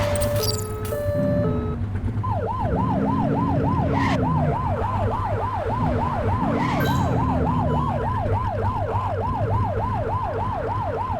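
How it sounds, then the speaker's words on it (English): A police car siren in the video game The Precinct wails in a steady, rapid up-and-down cycle, loud and continuous over a low engine drone, with a few short electronic tones and bursts of noise at the start. "Get behind them and whip the siren and make them pull over"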